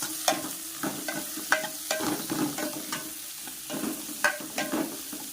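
Onions sizzle steadily in a hot pan with dried fish while a spoon scrapes and stirs in irregular clacks, close up with no talking.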